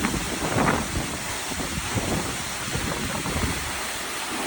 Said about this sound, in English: the water as it crashes down and the incredibly force the waterfall has when it reaches the ground